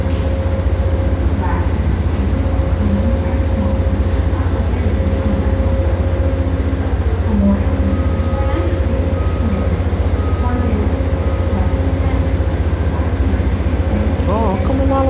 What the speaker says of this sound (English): Oh, I catch an Amtrak train.